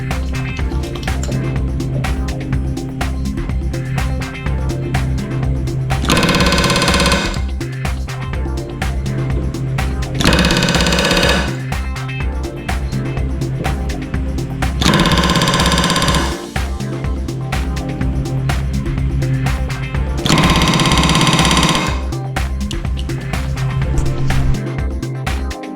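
A rivet gun drives rivets on an RV-10 flap, firing in four loud rattling bursts of a second or two each, spaced several seconds apart over a steady mechanical background.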